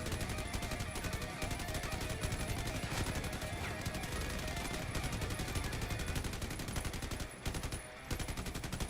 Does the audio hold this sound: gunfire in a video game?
yes